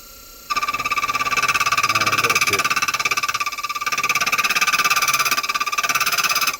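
A lathe turns brass and ebonite bands for a pen cap with a carbide tool, giving a steady mechanical hum with strong tonal whine and continuous machining noise after a brief quieter start.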